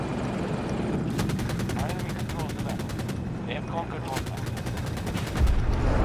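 Rapid automatic gunfire in the military shooter Squad on the Hourglass map, long bursts of crackling shots near and loud over a constant rumbling battlefield background, with distant thuds and a heavy boom near the end.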